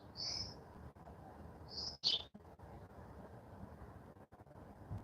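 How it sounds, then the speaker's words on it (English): Several high, thin bird chirps ring out outdoors, two short tweets early on and a sharper burst near the middle, each clear but moderately distant, with a quiet, steady background and no talking. "The birds are chirping."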